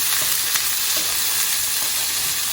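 Peppers, onions and potatoes frying together in a pan, a dense, constant hiss of sizzling fat with a few faint soft knocks, close and without voices.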